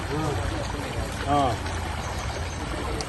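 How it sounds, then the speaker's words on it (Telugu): Irrigation canal water, released from Yellampalli into village fields at Namiligundupalli, flows in as a steady broadband rush, with voices talking over it throughout. "నీళ్ళు వచ్చినాయి"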